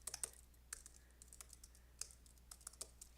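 Soft typing on a computer keyboard, a quiet irregular patter of light key clicks with brief gaps, close and alone in a still room.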